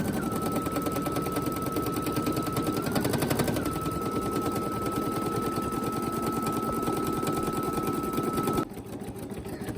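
An embroidery machine on a flatbed stitches the tack-down outline of an appliqué letter for a faux chenille look, giving a steady, rapid mechanical rattle that runs close and continuous before dropping to a quieter hum near the end.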